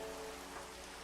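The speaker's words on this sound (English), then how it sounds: "Of course, it's going to start raining immediately." Steady rain falling in a cozy hardcore Minecraft-style world, a constant even hiss of drops without breaks, moderately quiet and alone.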